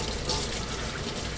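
Tap water runs steadily into a sink while an old Dietz Junior #20 lantern is scrubbed with steel wool and dish soap, a close, continuous rushing splash with no pauses.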